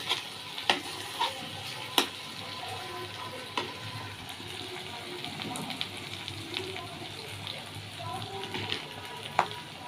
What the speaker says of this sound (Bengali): মাছ ভাজা প্রায় হয়ে গেছে